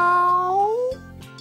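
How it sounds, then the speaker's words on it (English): A single drawn-out meow, rising in pitch, from a cat with a bandaged paw in a crowded vet's waiting room, clear and close, followed by a brief lower tail. "A cat with a bandaged paw"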